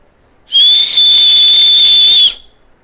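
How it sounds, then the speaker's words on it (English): A loud fingerless whistle, a single steady high tone held for nearly two seconds with a slight wobble at the start, sounding alone against a quiet background. "Let's see how loud is the fingerless whistle."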